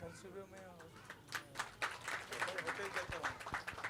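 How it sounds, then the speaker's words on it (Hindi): Audience applause at a spiritual discourse on liberation and enlightenment, a dense patter of many hands clapping that swells and continues steadily, fairly faint and distant, with a voice briefly over it. "वाह, तालियां बजी"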